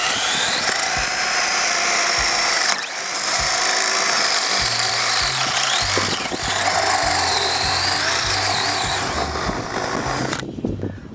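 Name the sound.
power drill drilling a hole in a wooden log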